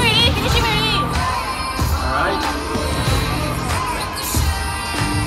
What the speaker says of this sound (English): Let's cheer for her, come on!